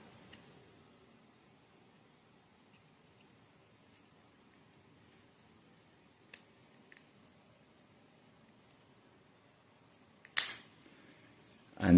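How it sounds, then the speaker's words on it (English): A Nissan Armada key fob case snaps shut after a long near-silent stretch, ending in a sharp, loud plastic click followed by a brief burst of handling noise at the very end. "When you hear the snap, when you push it, that's the time that you will know that the key fob is already closed."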